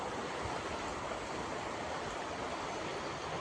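Mountain river water rushing steadily near Palayam, a continuous broadband roar of flowing water with no pauses, loud and close, with no voices.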